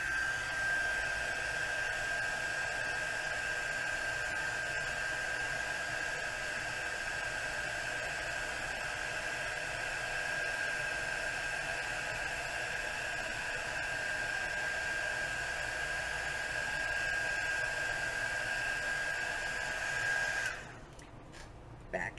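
An embossing heat gun blows steadily on embossing powder over a plate, a continuous loud airy whir with a faint whine, holding for about twenty seconds before cutting off.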